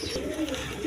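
Pigeons coo softly in a brief, close burst of low throaty calls.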